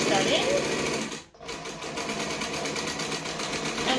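Sewing machine running steadily as it stitches a fabric bag with a lining, a close, continuous mechanical whir with a brief pause partway before the motor resumes.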